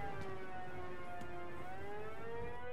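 A wailing siren in Batman Arkham Knight holds a steady rising and falling tone throughout, loud and continuous, heard alone without talk.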